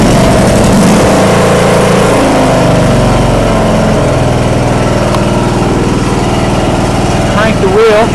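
A John Deere L100 lawn tractor engine runs steadily at close range after a cold start, a loud continuous mower-like drone with a brief shift in pitch near the end.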